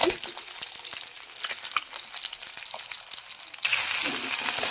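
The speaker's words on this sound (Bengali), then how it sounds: "এর মধ্যে মাছগুলো ভাজা হচ্ছে" Koi fish frying in hot oil for a vegetable fish curry, a steady crackling sizzle that runs throughout and swells louder and brighter near the end, with no voices.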